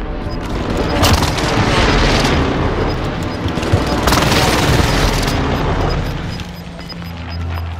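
Airstrike explosions hit in a Warzone match on Rebirth Island, a barrage of heavy booms and rumbling blasts with rapid crackling impacts, loud and close, fading slightly at the end.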